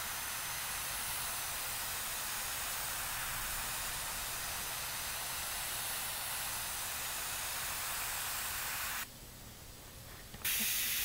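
An airbrush sprays paint as a steady, close hiss that holds for about nine seconds, breaks off briefly, then starts again at full strength.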